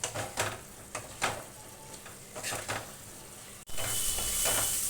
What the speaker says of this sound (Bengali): এবার এটা আমি খুব ভালো করে